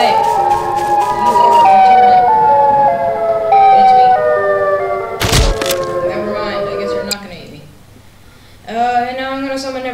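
Siren Head monster in Garry's Mod giving loud, wavering siren wails in stepped tones, cut by a sharp thud midway, then a pause and a fresh rising wail, with a voice talking over it.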